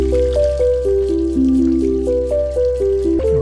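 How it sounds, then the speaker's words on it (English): Water sample layered into a chill music track, a soft dripping, trickling wash running steadily beneath a stepping melodic line over a low bass drone. "Let's add some water."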